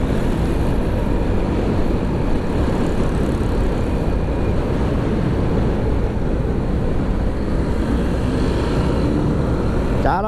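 A motorcycle ride, with loud, constant engine drone and rushing wind noise filling the whole stretch without a break.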